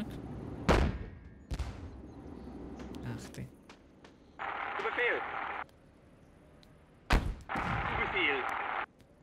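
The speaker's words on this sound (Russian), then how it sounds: "Ну, обстреливаем пока противника." Gunfire shells the enemy in the World War II game Theatre of War 2: Africa 1943, with a few sharp, loud shots and thuds spaced seconds apart, followed by rumbling bursts, while someone talks between them.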